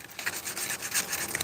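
Steady back-and-forth scratching of 220-grit sandpaper rubbing on wood, close and fairly quiet, in short repeated strokes.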